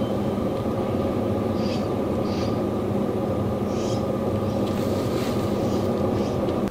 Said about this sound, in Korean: 이동식 에어컨은 밖에서 들었을 때 바람이 그냥 빠지는 소리 이 소리만 나니까